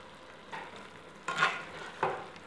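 Ham, potatoes and green beans being stirred inside a Fussioncook Touch Pro electric cooker, heard as three short scraping stirs of a spoon through the pot, close and fairly quiet with gaps between.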